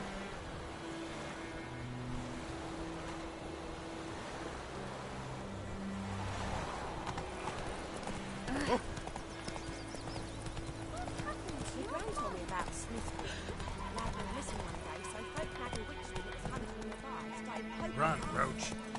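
Hoofbeats of a horse galloping in The Witcher 3, a steady clip-clop rhythm running under game music and ambience, with a voice speaking over it at times.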